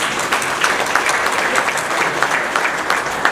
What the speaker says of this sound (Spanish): Recibamos a Jorge con un fuerte aplauso